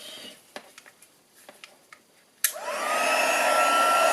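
A hair dryer is switched on with a sharp click after a few faint ticks and handling taps, then blows a steady, close, loud rush of air to dry a paper craft project.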